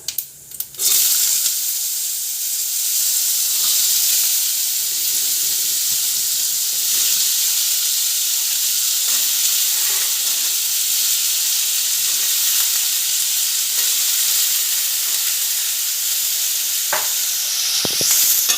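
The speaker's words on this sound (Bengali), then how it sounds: "আলুগুলো অল্প ভেজে নিই।" Chopped potatoes fry in oil with a loud, continuous hissing sizzle that holds steady throughout, with a few faint stirring knocks. There is no talking.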